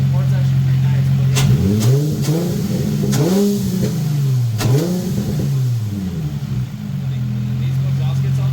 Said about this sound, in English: You hear the throttle body doing its thing?